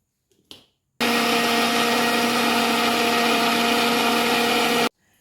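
A mixer grinder whirs loudly and steadily for about four seconds after a short click, then cuts off.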